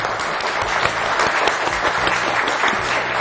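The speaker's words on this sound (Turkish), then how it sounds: "1 dakika 21 saniye daha kuvvetli alkışlar rica ediyorum." Studio audience on a Turkish word quiz show clapping loudly and continuously, a dense, even burst of applause close to the microphone with no speech over it.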